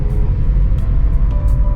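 A car drives along a mountain road near the Baba Maimal ji Temple in Jammu and Kashmir, a loud steady low engine and road rumble from inside the vehicle, with faint brief clicks and no talk.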